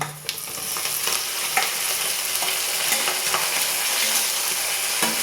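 Green chilies, a few bird's eye chilies and curry leaves go into hot oil for a chicken curry, giving a loud, continuous sizzle with crackling pops and scraping stirs close by.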